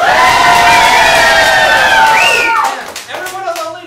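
An improv show audience roars with loud shouting and cheering that holds strong, then breaks off abruptly into scattered voices and a few claps near the end.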